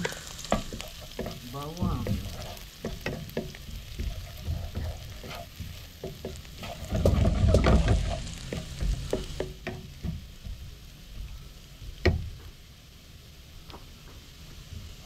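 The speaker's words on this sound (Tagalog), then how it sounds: "At so igigisa na natin yung mga bawang." Garlic sautéing in a pan, close crackling sizzle with repeated scraping stirs and clatter, swelling louder midway, no talk.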